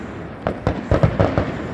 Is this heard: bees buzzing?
no